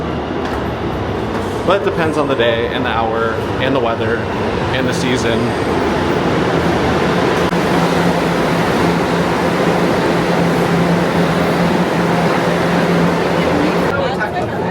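A New York City subway train (C and E line) rumbles and hisses continuously, with a steady low drone of wheels and motors as a voice speaks over the noise.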